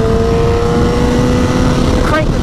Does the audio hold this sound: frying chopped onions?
no